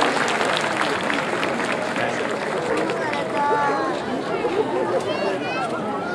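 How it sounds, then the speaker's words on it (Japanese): Large audience at a Kabuki performance in Yanagibashi applauding, dense continuous clapping that fills the whole stretch at a steady loud level, with some voices faintly mixed in. "佐藤雄平知事のますますのご活躍をお祈りしまして、大きな拍手をどうぞよろしくお願いします"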